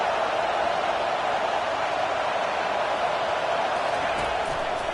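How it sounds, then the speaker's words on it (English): Stadium crowd in the NCAA 25 football video game roars steadily during a third-down defensive stand, a dense continuous wash of cheering noise that stays loud and even throughout. "Decibels rising as the crowd gets behind this defense on 3rd down."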